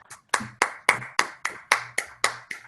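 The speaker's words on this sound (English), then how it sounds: "I think everyone should unmute and give a Keller Williams Southern Arizona applause for Steve in this excellent program." Hand clapping on an online Keller Williams Southern Arizona business call: about nine close, crisp single claps at a steady, even pace with nothing else heard.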